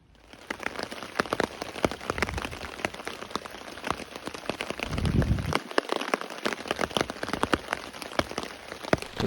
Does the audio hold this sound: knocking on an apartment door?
no